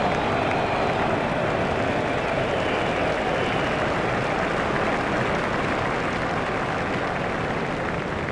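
Crowd applauding a shot in EA Cricket 2007, a steady dense wash of clapping and cheering from a large stadium audience, sustained and evenly loud throughout.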